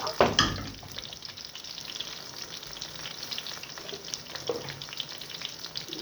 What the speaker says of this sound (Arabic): دي طريقه عمل البتنجان المقلي الجميل بتاعنا اهو